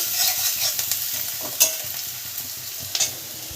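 Chopped onions fry in a pan for a cauliflower paratha, a close, steady sizzle with a few sharp stirring clicks and scrapes, no talk.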